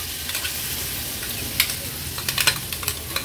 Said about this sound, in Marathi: 1-2 मिनिटांसाठी ही चटणी फक्त आपल्याला परतून घ्यायची आहे